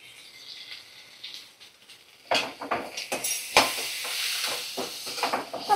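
Cumin paste and ginger garlic paste frying in a pan, starting with a faint sizzle, then rising to louder, crackling spatters and scraping stirs over medium flame, close by.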